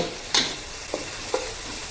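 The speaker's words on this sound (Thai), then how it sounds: "เอาเต้าเจี้ยวอะค่ะ เอามา เจียวกับกระเทียมแบบนี้ให้หอมเลย" Fermented soybean paste and garlic fry in a pan with a constant, fairly loud sizzle and a few sharp scrapes from a spatula.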